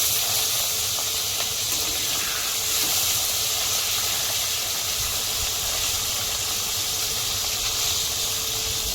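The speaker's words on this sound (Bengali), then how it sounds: "মাছগুলো ভালো করে এরকম করে ভেজে নেব।" Bata fish frying in hot oil at home, a continuous loud hissing sizzle with a faint bubbling crackle underneath, steady and close throughout with no talk.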